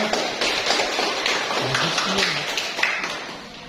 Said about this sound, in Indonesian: Kita beri tepuk tangan untuk kelompok Brigita dulu dengan semangat.